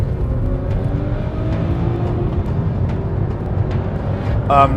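A Volvo S60 Polestar accelerating hard from a rolling start, a steady engine drone and whir heard from a following car, with faint gear-change blips and a brief sharp sound at the end.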